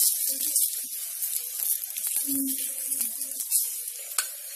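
A green peas stuffed paratha fries in refined oil on a griddle with a soft, continuous high sizzle and occasional crackles, while a few brief tonal sounds surface in the background.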